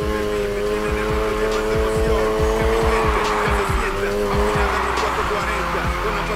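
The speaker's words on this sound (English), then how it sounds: "Slam on the gas and steer. Then use the gas to power through." A car drifting in NFS Heat, its engine roaring continuously with tonal whine while tires squeal steadily and rhythmic thumps pulse underneath, loud and close.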